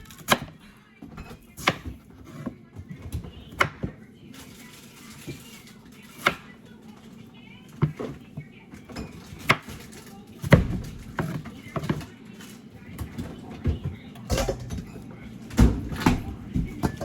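Knife chopping vegetables for Jamaican vegetable soup on a cutting board, sharp isolated thuds spaced irregularly a second or two apart, close and fairly quiet, with soft kitchen background and some talk.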